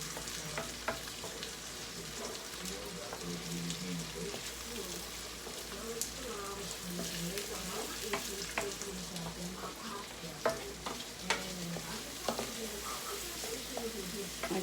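Cube steak with garlic caramelizing in a hot pan, a steady broad sizzle and crackle running throughout with scattered pops and occasional light clinks of a utensil.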